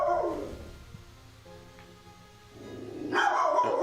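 A dog named Anna barks and howls in a few loud, harmonic bursts at the start and end, with quieter whining tones between, fairly close and with no talking.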